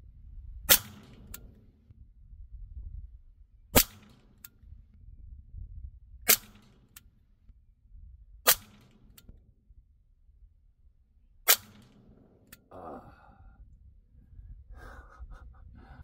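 An AEA SF Compact air rifle fires H&N slugs, five sharp loud cracks spaced several seconds apart against quiet background, with faint chicken clucks late on.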